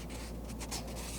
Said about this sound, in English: It's the sound of paper just being touched or lightly scratched.